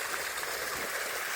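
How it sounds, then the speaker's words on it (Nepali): Water from a waterfall stream pours in a steady, even hiss and rush on a hike in Snowdonia, close and continuous, with no voices. "हामी चाहिँ झर्ना आइपुग्यौँ"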